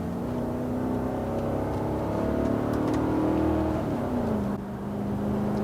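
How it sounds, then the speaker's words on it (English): From inside a 1980s Mercedes 560 SEC coupe, the engine drones steadily and its pitch rises under acceleration, then drops briefly as the transmission shifts. The drone stays steady and continuous, with no speech. "the transmission, like you can tell, it downshifts and upshifts pretty quickly."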